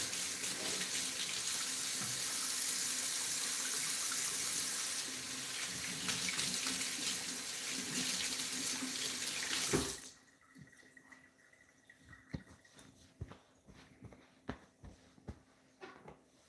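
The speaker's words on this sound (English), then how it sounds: "So let me just wash here." A kitchen sink tap runs loudly and steadily for about ten seconds while hands are washed during cookie baking, then shuts off, leaving quiet drips and small clatters.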